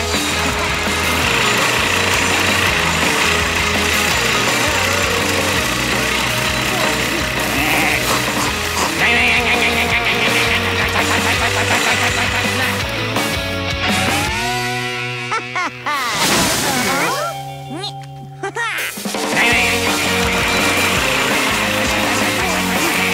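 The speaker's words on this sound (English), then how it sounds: "It's growing faster than we can mow it. All this mowing is disturbing my study." A cartoon mowing machine runs in a Dennis the Menace and Gnasher episode, giving a loud, continuous engine drone with shifting tones and a brief dip and change in pitch near the end.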